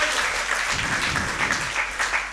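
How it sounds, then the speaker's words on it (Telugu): A church congregation claps in praise during a sermon, a dense and steady round of applause that fills the room evenly throughout, with no voices over it. "చప్పట్లు కొట్టి దేవుని స్తుతిద్దాం."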